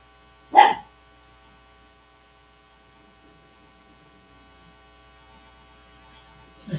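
A single short dog bark rings out near the start, reasonably close and loud, then the room falls back to a steady electrical hum with only a faint noise near the end.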